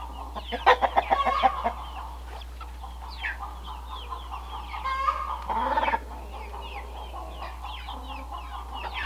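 Several egg-laying chickens cluck and chatter nearby in short bursts while grazing on pasture, a busy flock sound over a low steady hum, with quieter gaps between outbursts.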